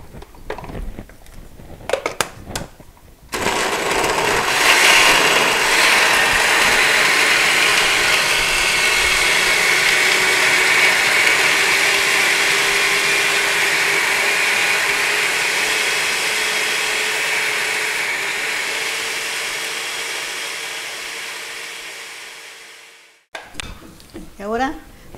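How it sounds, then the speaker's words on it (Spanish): A kitchen blender grinds cumin, cloves, pepper, tomato and guajillo chilies for a chicken and vegetable soup, running loud and steady for about twenty seconds, with brief voices and handling noise before it starts and after it stops. "Y le vamos a poner el comino, le vamos a poner los clavos y las pimientas, todo lo demás. Y ahora sí, a moler."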